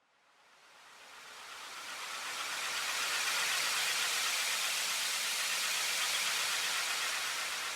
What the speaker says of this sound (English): as the white noise rises, open it up to create more movement through it